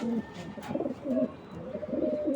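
Soft, repeated low cooing of young racing pigeons close by, rolling in short phrases one after another.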